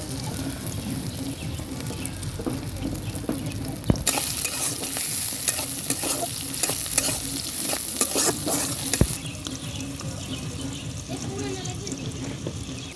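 Cooking oil poured into a hot pan for a fish curry with green stalks: a continuous close sizzle and frying hiss that swells louder midway, with faint clinks and a brief knock or two, no voices.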